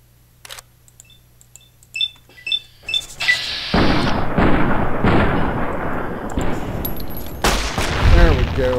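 Gunshots fired at a rad scorpion in Fallout: New Vegas: a few sharp separate reports early on, then a loud sustained burst of in-game noise and blasts with no one talking.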